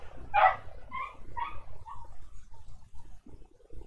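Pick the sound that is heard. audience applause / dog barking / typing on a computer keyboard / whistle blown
dog barking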